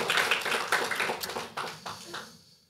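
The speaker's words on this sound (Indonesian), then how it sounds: "Boleh kasih tepuk tangan buat tim" A church congregation gives a short burst of hand clapping for the praise and worship team, moderately close, thinning out and fading over a few seconds.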